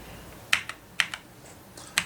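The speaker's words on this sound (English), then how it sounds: "So to test it, I need to type in characters in uppercase" Keys tapped on a computer keyboard while entering uppercase characters, a few sharp separate clicks spaced irregularly, close and clear with no speech.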